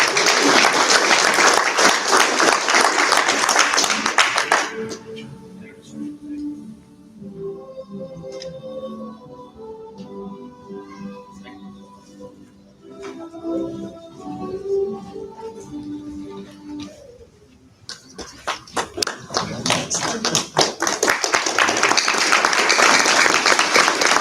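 Loud crowd applause at a Vincennes University technician completion ceremony, stopping for a stretch of quieter music with tones, then swelling back into full, sustained clapping.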